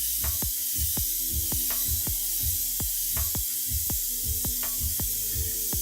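An airbrush sprays monochrome paint with a steady continuous hiss, while a regular series of sharp clicks repeats roughly twice a second underneath it.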